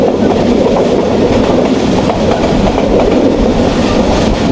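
Paharika Express passenger train running from Sylhet to Chittagong, heard from the open carriage door: a loud, steady roar of wheels and rails with rhythmic clickety-clack, continuous and close.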